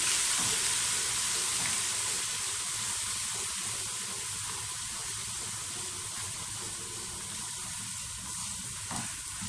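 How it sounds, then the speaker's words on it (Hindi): Steady, loud sizzling of ginger garlic paste frying in hot oil for an aloo gosht, a continuous crackling hiss with occasional stirring, no voices. "अदरक लहसुन का पेस्ट डालकर हम इसे मज़ीद 1 मिनट के लिए भून लेंगे।"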